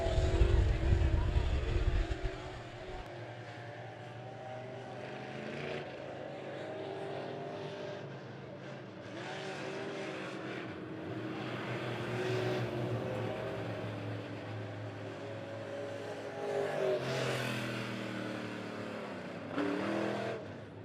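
Late model race cars thunder around Monett Motor Speedway, their engines roaring and rising as they pass at varying distances, with steady crowd and track ambience throughout.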